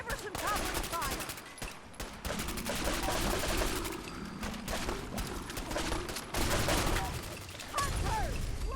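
Bursts of gunfire in the video game Fallout 4, with rapid repeated shots and automatic fire rattling almost continuously and loud throughout, overlapping dense battle noise.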